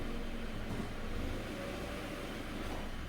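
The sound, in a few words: 2012 Subaru Impreza engine running in drive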